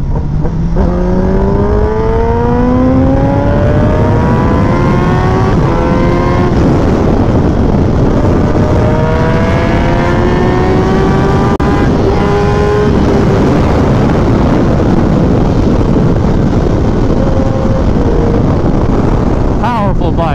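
A Kawasaki Ninja ZX10R motorcycle engine accelerates in short pulls, its pitch climbing and dropping between gear changes. It sounds loud and close under heavy wind roar, with a voice talking over it.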